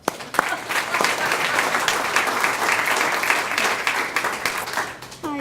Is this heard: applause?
yes